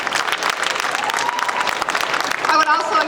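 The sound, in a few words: applause for supporters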